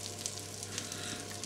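A chicken burger patty sizzles steadily in a frying pan, a dense, close crackling hiss with no talk.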